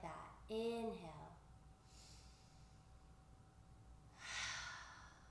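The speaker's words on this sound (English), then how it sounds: "Take a deep inhale through your nose. Exhale out your mouth." During a gentle flow yoga session, a deep breath is drawn in through the nose and released through the mouth, soft airy rushes near the mic alongside a brief voiced sound.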